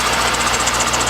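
A C5 Corvette engine idles steadily up close, a constant low rumble with a faint repeating chirp from a squeaking belt or worn pulley on top.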